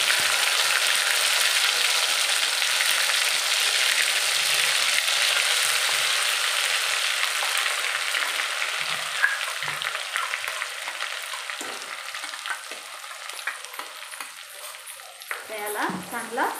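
Ground masala paste hits hot oil in a pan and fries with a loud, dense sizzle that gradually settles, broken by a few stirring scrapes and clinks near the end.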